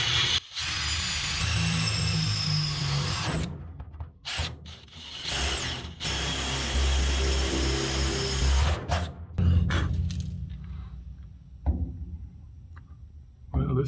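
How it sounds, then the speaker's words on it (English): A hand drill bores a 21/64 hole for 5/16 bolts while seats are test-fitted in a 1966 Ford Bronco under restoration. Loud, close whirring and grinding runs for long stretches, broken by brief pauses, and fades out toward the end. "I'm just going to drill this with it's a 21/64"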